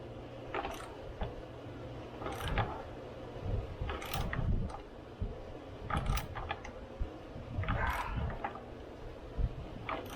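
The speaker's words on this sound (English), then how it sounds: "Hold my crimper while we tighten this thing up" A hand crimper tightens a custom A/C hose line for a Vintage Air kit on a 1977 Pontiac Trans Am with an LS3 swap, giving repeated close metallic ratcheting clicks in irregular bursts over a steady low background.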